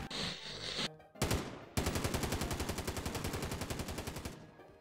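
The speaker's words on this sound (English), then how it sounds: "Who's shooting at me?" Gunfire rings out in Call of Duty: Modern Warfare: a few heavy single shots followed by a long, rapid, evenly spaced automatic burst, loud and close.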